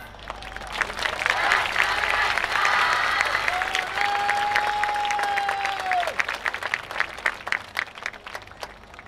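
Applause and rhythmic clapping along from an audience at a night main-stage dance performance at the Kamisu Maccharage festival, 2024. The sound is sustained and fairly loud, with a whistle briefly sounding over it and then clapping in a steady beat.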